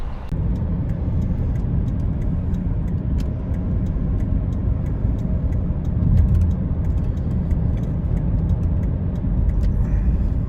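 A car interior carries a steady road rumble and engine drone while driving onto the Formosa Freeway on-ramp in Taiwan, heading north, with faint ticking over the even noise and no talk.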